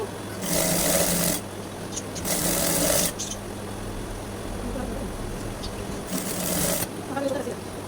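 A sewing machine stitching the side seam of a round bolster pillow cover, its motor whirring in three loud bursts separated by quieter pauses with a steady background hum.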